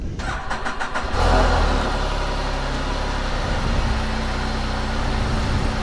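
A 2020 Can-Am Spyder RTL cranks with a quick series of rhythmic starter chugs, catches with a loud burst, then settles into a steady, close idle that holds to the end.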